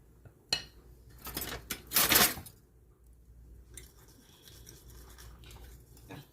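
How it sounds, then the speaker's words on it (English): Whisking chocolate cake batter for a double chocolate Coca-Cola cake in a bowl, with a few quick scraping bursts of wire against the bowl followed by softer, steadier stirring nearby. "whisk it all together, making sure all of this gets combined"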